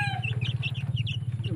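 Chickens cluck and chirp close by in a short, quick burst of rapid pulsing notes with a few higher calls.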